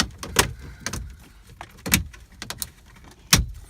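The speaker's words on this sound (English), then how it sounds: "So first we're going to pop off the trim ring." Plastic trim ring on a Chevy Silverado or GMC Sierra truck pried off with a nylon tool, giving several sharp plastic snaps and clicks at irregular intervals, close and moderately loud with quieter rustling between them.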